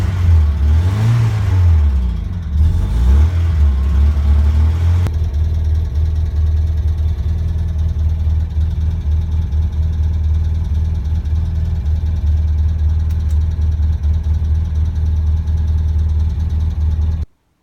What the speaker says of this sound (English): Cylinder head is tapping away though, it never used to